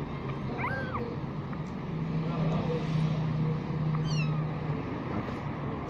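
A small kitten meows in a few brief high calls over a steady background hum, with a person talking nearby.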